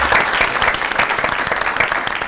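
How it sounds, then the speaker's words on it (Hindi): Audience applause for the musicians on a TV morning show, a steady, dense burst of clapping from a studio crowd lasting the whole stretch without letting up. "म्यूजिशियन के लिए तालियां हो जाए"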